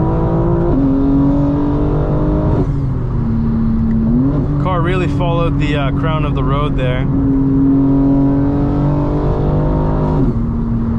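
A 900 hp 2025 BMW M4 Competition xDrive hums loudly and steadily at speed from inside the cabin, with a brief run of crackling exhaust burble midway while a driver talks over it.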